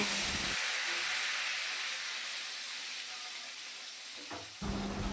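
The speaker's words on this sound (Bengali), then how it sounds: "অন্য পাশটাও ভালো করে ভেজে নেব।" Pieces of rohu fish fry in hot oil with a steady, close hiss that runs the whole time, fading slightly before a brief rise near the end.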